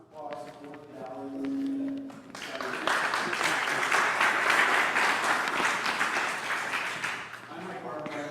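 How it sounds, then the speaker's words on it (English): Audience at a civic talk breaks into applause after a short stretch of a speaking voice, the crowd clapping swelling to a full, dense patter that carries on for several seconds before easing. "Can we just do a round of applause for the Valley?"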